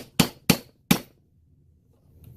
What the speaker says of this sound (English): You put that on there, and you hammer it down.